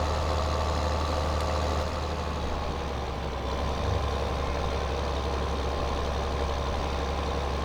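Tractor in Farming Simulator 2015 backing into a farm entrance, a steady low engine drone with idling rumble, close and continuous throughout with no talk.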